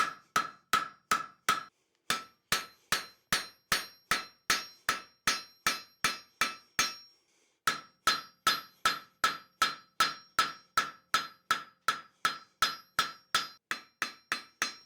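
A hammer's cross peen strikes a metal taper on an anvil in a steady series of sharp ringing blows, close and fairly loud, with one brief pause midway.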